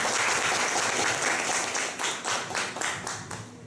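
An audience applauds to welcome a speaker at a small gathering, dense clapping that thins out near the end into a few distinct, spaced claps.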